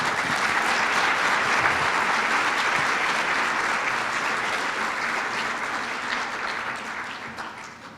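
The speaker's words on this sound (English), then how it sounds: "can we give her a round of applause?" A sustained round of applause from an audience at a Women of Distinction awards event, steady clapping that gradually fades toward the end.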